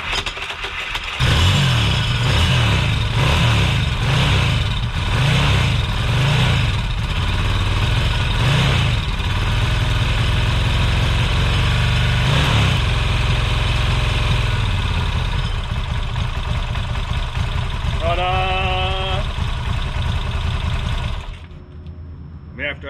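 A Moto Morini motorcycle engine cranks and catches, then settles into a lumpy, pulsing idle that runs loud and close for about twenty seconds before cutting off abruptly.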